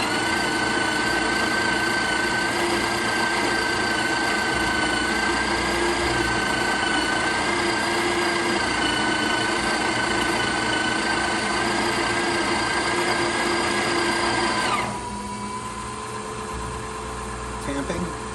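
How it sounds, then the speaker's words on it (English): A Breville Oracle espresso machine grinds coffee with a loud, steady whirring drone and high whine that continues for about fifteen seconds, then stops, leaving a quieter mechanical hum. "Let's do espresso,"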